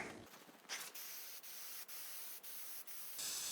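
Shellac sprayed from a can onto an MDF sign: steady high hiss in bursts, broken by several short pauses, close and loud with no talking.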